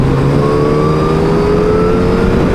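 A Yamaha FZ1N motorcycle engine drones steadily while riding, a continuous close mid-pitched hum with faint tonal whine and wind rush, holding fairly constant without pauses or talk.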